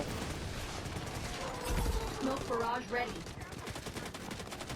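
Gunfire in the video game Delta Force, with rapid bursts of shots mixed with mechanical clatter in a dense, noisy game soundscape, moderately loud throughout.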